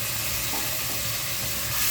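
Dried chili paste is stirred into spices frying in a pan, making a dense, even sizzle with soft stirring scrapes. It is close and continuous for a brief moment.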